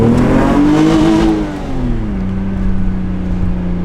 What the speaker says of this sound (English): Let's take the MR2 for one last rip.